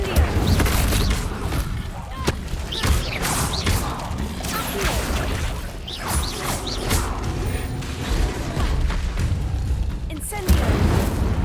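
Incendio fire spell from Hogwarts Legacy cast again and again in a game battle, loud whooshing bursts and crashing impacts layered over busy combat noise.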